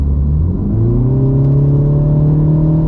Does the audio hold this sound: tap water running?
no